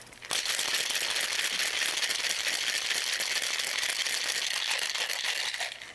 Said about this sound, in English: I'm going to ice this up and then give it